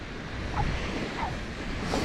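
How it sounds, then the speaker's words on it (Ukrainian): Baltic Sea waves washing onto the shore, a continuous soft roar of surf with light wind buffeting the microphone, heard alone without any voices. "Ну тут море глушить"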